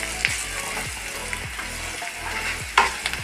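Garam masala being stirred into chilli masala frying in a pan, a steady loud sizzle with repeated scraping strokes of the spoon and a sharper clink near the end.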